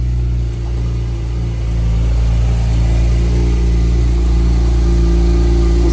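Close, steady drone of a 2018 Porsche 991 Turbo idling slightly high just after a cold start on a cold morning, a constant rumbling engine note with faint vibration and no voices.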